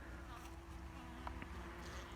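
Steady buzzing from many honeybees around a hive, a dense continuous hum close by with no voices.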